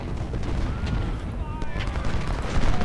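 Artillery and gunfire rumble through a Civil War battle at Stones River in the strategy game Ultimate General: Civil War, a dense, continuous bed of booms and crackling shots with scattered sharper reports and no pauses.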